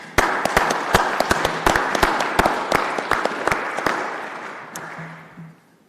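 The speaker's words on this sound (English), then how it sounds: "Round of applause." Round of applause from the room at a council meeting, a dense burst of hand claps with sharp individual claps standing out, then thinning and fading away near the end.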